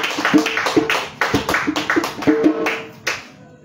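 Church congregation clapping to acclaim the Lord Jesus at an evening worship service, a steady rhythmic run of close, sharp claps with a few fainter taps between, holding for several seconds before tapering off.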